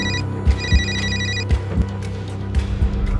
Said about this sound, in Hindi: इसके बाप को फोन मिलाता हूँ।